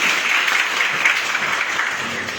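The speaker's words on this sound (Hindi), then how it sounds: "एक बार जबरदस्त ताली अपने लिए बजा दीजिए" Loud, dense applause from an audience at an RCM business gathering, a steady wash of many hands clapping close by, without a break.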